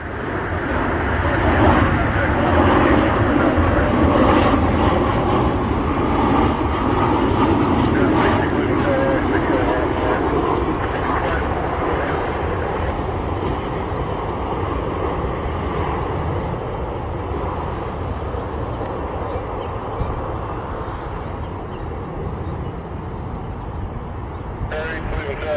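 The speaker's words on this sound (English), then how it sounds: "It's a Learjet heading to Miami." A Learjet business jet heading to Miami roars past at an airport, its broad engine noise loud and sustained, then slowly easing, with a person talking over it.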